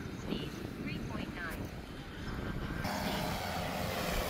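An Agrown-10X agricultural spraying drone with centrifugal nozzles flies in manual mode over a field, giving a steady, broad whirring drone that swells louder partway through, with people talking over it.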